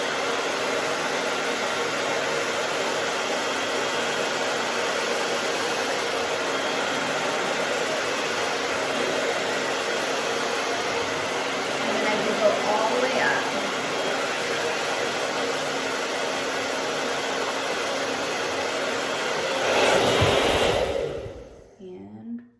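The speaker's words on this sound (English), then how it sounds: "So with the blow dryer on, this is what it's gonna look like." A handheld blow dryer runs without a break while hair is styled with a round brush. Its steady, airy roar holds level for about twenty seconds, then swells briefly and cuts off.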